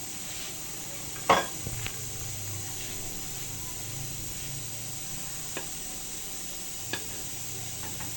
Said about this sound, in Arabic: انا درت المقله كتسخن وغادي ندهنها بالزيت والزبده اختياري